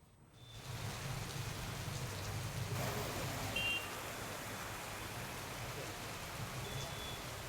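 Heavy rain pours in Hyderabad, a dense, steady hiss of drops hitting surfaces that starts quickly and holds an even loudness throughout, with no voices.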